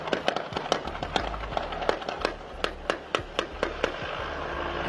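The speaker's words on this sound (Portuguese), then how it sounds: "denunciando o helicóptero dando tiros" Sharp, repeated gunshot cracks fired from a helicopter in an irregular rapid series, moderately distant, over a constant low rumbling background.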